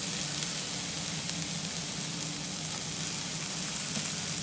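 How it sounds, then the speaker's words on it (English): Peppers fry in a pan sprayed with Fry Light for a Cajun chicken pasta, a dense, even sizzle and crackle filling the whole stretch, close and loud with no voices. "I'm just going to add the peppers now."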